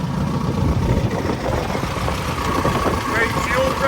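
A car engine idles steadily on a windy day, a constant low rumble mixed with broadband wind noise that stays unchanged throughout, with no distinct voices.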